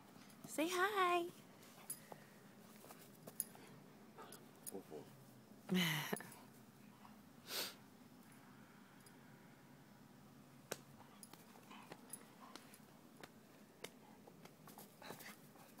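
A puppy plays with a ball indoors, letting out a short high whimper near the start, then a snort and faint snuffling. Voices talk quietly in the background.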